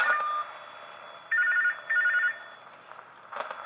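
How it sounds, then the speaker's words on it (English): Sound cue from the horror video game Tubbyland Archives: short electronic beeping tones, two or three bursts each lasting about half a second, then a louder blip near the end, with no talk. "I'm guessing I have to repeatedly press the sound cue button"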